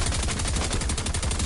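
Rapid automatic gunfire in the Fortnite video game, a dense continuous burst of loud shots with no pauses, no talking over it.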